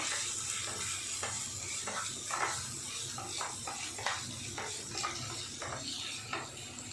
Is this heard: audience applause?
no